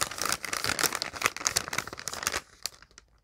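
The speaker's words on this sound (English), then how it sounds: "crinkling" Close, busy crinkling of material being handled, rapid crackly bursts for a few seconds that stop abruptly, with a couple of faint rustles after.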